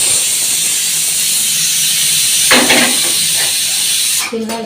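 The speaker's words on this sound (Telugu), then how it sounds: "దీన్ని ఇంకా ఆయిల్లో ఫ్రై చేసేయాలి" Mutton rolls fry in hot oil with a steady, loud hiss throughout, broken briefly midway by a clatter and a short voice, with a few more clinks near the end.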